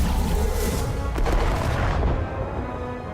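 Starship weapons discharging in the space game Star Trek: Resurgence: a loud, heavy rumbling barrage with a sharp burst in the middle, fading into a low roar, with no talking.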